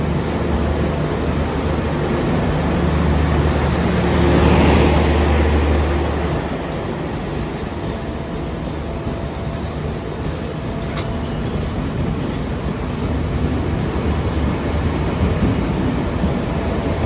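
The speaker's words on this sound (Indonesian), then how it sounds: "kereta api komuter lain Supas sudah meninggalkan stasiun Bangil teman-teman" A commuter train pulls out of Bangil station in Indonesia, a steady rumble of wheels and rail noise swelling slightly early on and then holding as a continuous broad roar for the whole stretch, heard alone without talk.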